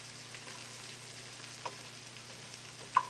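Food sizzles and fries in a pan while being stirred, a soft steady crackle with a couple of brief clinks from the stirring utensil, quiet and alone.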